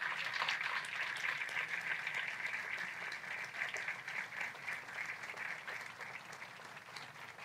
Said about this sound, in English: I'd like the Hall of Fame committee, the current Hall of Fame committee, to stand up and get a round of applause.